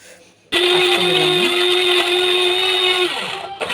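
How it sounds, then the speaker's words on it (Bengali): An electric blender starts abruptly and whirs loudly for about two and a half seconds, grinding onion, garlic, ginger and green chili, its pitch dipping briefly under load before winding down and stopping. "এখানে পেঁয়াজ রসুন আদা কাঁচামরিচ সব কিছু আছে এটা একটু ব্লেন্ড করে নিব"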